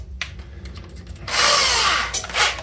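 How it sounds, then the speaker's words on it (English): A power drill bores through a steel putty knife blade, starting with light, scattered handling noise before the bit bites and a steady, loud grinding whine runs for over a second, dips briefly, then surges again close by. "I'm gonna drill through it"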